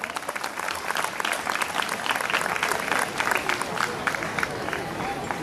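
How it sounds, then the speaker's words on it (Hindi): Sustained, loud applause from a large audience at an Arya Samaj commemoration event, dense clapping running throughout to welcome a speaker to the stage. "आप जोरदार तालियों से उनका अभिनंदन करें"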